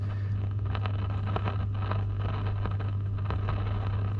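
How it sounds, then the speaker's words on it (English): A vintage valve radio gives off a steady low mains hum with faint crackling static on top, continuous and close, with no one talking. "all I'm hearing is a hum in the background, slight bit of static"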